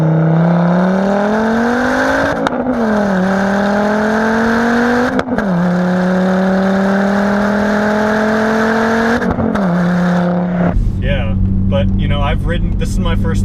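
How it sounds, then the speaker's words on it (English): A Volvo S60R five-cylinder engine revs hard, its loud, steady note climbing in pitch through several pulls with brief breaks between them, then dropping back to a lower rumble at the end. "that Volvo 5-cylinder sound is just so unique"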